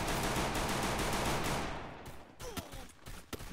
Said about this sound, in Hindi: ये देखो गोलियां कहाँ मार रहा है ये